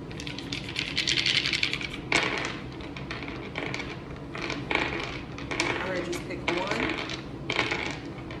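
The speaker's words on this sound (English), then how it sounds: "I'm also going to be using letter dice as well" Letter dice tumble and clatter on a hard surface in repeated bursts, sharp rattling clicks close by, with a brief pause between rolls and no talking.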